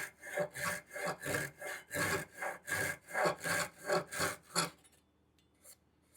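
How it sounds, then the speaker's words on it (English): A Japanese pull saw makes a flush cut in wood in a steady rhythm of about a dozen rasping strokes, close and loud, then stops, leaving near silence. "one of the most common uses of a Japanese pull saw is to make flush cuts"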